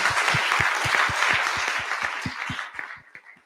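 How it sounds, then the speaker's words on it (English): A meetup audience claps for the evening's presenters, a brisk wash of applause with a few sharp nearby claps standing out, tapering off toward the end. "a round of applause for everybody that presented tonight"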